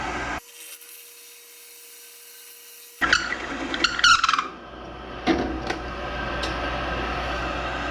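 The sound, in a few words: drilling a flat-bottomed hole in wood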